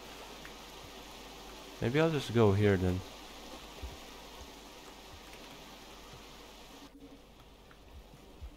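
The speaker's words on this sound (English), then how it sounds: "This is one of those rainy spots." Soft, steady rain falls as a quiet hiss in the video game Rain World, with someone speaking briefly over it near the start.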